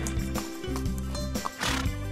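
A horse whinnies over a bouncy electronic tune, with a clip-clop rhythm running steadily underneath.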